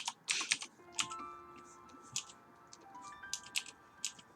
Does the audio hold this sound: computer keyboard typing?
yes